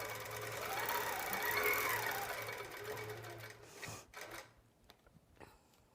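A sewing machine stitches fabric while tacking down the top and sides before pockets are added. It runs as a steady, fast, close mechanical whir, then stops and starts in short bursts toward the end.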